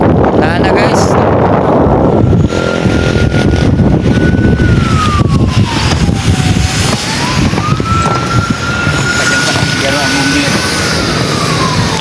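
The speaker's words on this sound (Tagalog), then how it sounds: "Wow, ayan ambulansya yan." A loud ambulance siren wails, rising and falling in long sweeps, steady throughout over heavy wind rumble and traffic noise, heard from a rooftop during a fire in Naga City.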